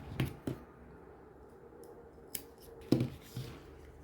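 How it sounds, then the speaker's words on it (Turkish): Scissors snip through a long piece of yarn during a crochet flower craft, giving a few quiet, crisp cuts and clicks spread over a few seconds, close by. "yine uzunca bir ip kesiyorum"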